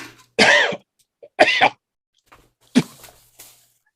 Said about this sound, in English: A cough, and maybe a spit of mucus.